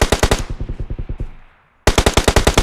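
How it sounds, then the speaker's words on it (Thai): Automatic weapon fire in the video game PUBG Lite: a rapid loud burst of shots, a quieter distant burst that trails off into a short gap, then another close, sharp burst. "อีกสองคนอ่ะ เห็นไหมยิงกันเองแล้วครับ"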